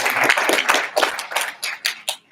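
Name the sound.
audience round of applause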